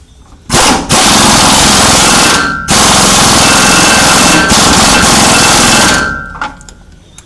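Loud, sustained pneumatic impact-wrench hammering as a rear shock bolt is tightened on a third-generation Camaro, two long bursts with a short pause between, then a few brief taps as it winds down.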